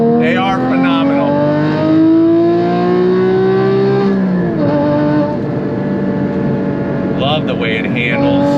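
Porsche Cayman GT4 with a six-speed manual revs hard to redline, a loud, steadily rising engine note under load that climbs for about four seconds, drops briefly with a shift and then builds again.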